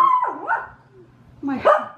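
A dog barks twice, loud and close, with a gap of quieter room noise between the two yelps.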